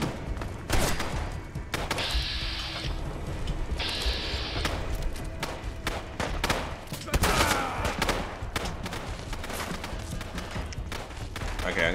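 Gunfire in Fallout: London rattles in rapid bursts and single sharp shots, with mechanical clicks and thuds between volleys, loud and close, under faint voices.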